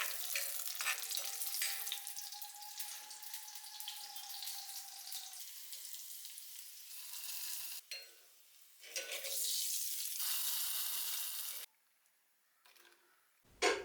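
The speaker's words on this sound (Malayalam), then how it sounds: "ഇനിയിപ്പോൾ ഇതാ നമുക്ക് വെളിച്ചെണ്ണയിൽ ചെറിയ ഉള്ളി വറുത്തിടണം." Small onions sizzle in hot coconut oil, a bright, crackling hiss that fades out briefly twice and then stops near the end.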